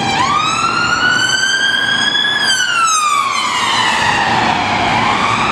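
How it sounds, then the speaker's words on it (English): A police car siren on a street near a bus station, loud and close, wailing in long rising and falling sweeps over constant traffic rumble. "Oh, look, we've got a police car."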